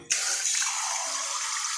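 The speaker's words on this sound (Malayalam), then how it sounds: "ഇതിലേക്ക് വെള്ളം ഒഴിച്ച് കൊടുക്കാം" Water poured into a cooking pot to cool it, a sudden steady splashing gush starting sharply and running continuously at close range, with no voices.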